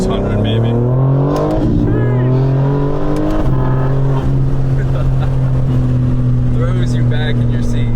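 A modified Le Mans Blue BMW G82 M4 making around 600 horsepower, heard from inside as it accelerates hard through successive rising gear pulls. The engine note is loud and raspy, with people talking over it.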